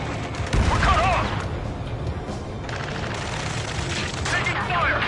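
Combat gunfire crackles steadily at moderate distance in Ace Combat 7 while voices shout over it, with a continuous layer of battle noise throughout.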